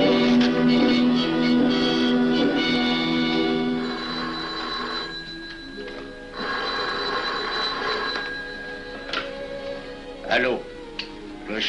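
An old telephone bell rings in loud repeated bursts in a 1940s ministry office, fading to quieter tones later, with voices mixed in.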